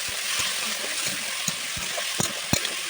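Potato and chopped cauliflower stalks fry in a pan for a vegetable prawn dish, a steady close sizzle broken by light knocks and stirring scrapes.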